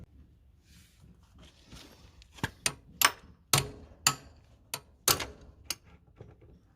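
A flywheel puller bolt being turned with a wrench on a Yamaha dirt bike, giving a series of sharp metallic clicks and clanks that grow more frequent midway, close by and fairly quiet, with no talking.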